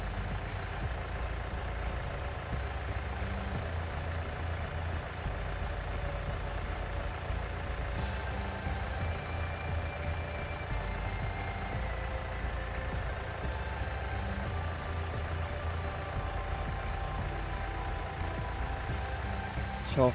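A tractor engine drones steadily while mowing a meadow in Farming Simulator, a continuous mid-pitched hum with no breaks throughout.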